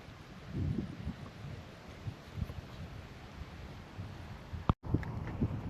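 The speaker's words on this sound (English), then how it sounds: "it's a bit windy through this passage" Low, gusty rumble of wind blowing through a passage at Piula Cave Pools in Samoa, buffeting the microphone, rising and falling in bursts, with a brief sharp knock near the end.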